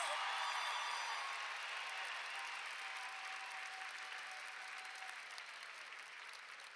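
Sustained applause from a graduation ceremony audience fills the space, a broad dense wash of many hands that fades slowly, heard at a distance with no talking over it.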